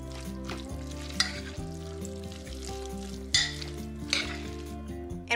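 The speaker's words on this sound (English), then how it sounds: "Let's mix this really well." Ingredients seasoned with salt and pepper are mixed together in a bowl, giving a few soft scraping clunks and stirring sounds beneath steady background music.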